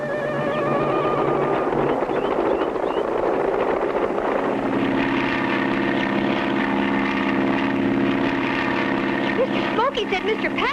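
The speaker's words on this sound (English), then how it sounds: "Our plane is much faster." A propeller plane drones steadily and loudly throughout in an old animated adventure serial, with an engine pitch that rises and wavers over a constant roar.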